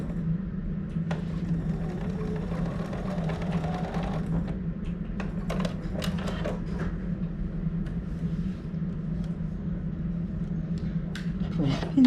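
A home sewing machine stitching a flying geese quilt piece, its motor humming steadily at a low level with faint clicks and small scrapes of handling fabric throughout.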